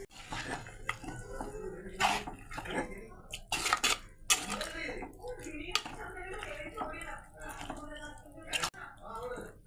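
Cooked jackfruit seeds go into a pan of curry masala with scattered clinks and scrapes of a spoon against metal cookware, along with soft wet stirring, while a person talks throughout.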